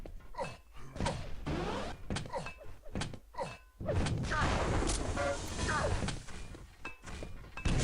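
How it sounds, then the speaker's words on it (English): Grenades and rockets burst in a Quake duel, a rapid run of loud, booming thuds and slams with a denser rumble of blasts through the second half. "Oh, more grenades coming down."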